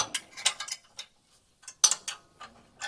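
On a 1969 Pontiac GTO, a ratchet works to loosen the alternator belt. It gives a close series of quick mechanical clicks in two short bursts with a pause between them.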